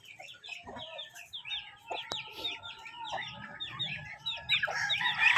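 Chickens cluck continuously in a lively farmyard chorus, with a rooster's crow mixed in and a sharp tap partway through.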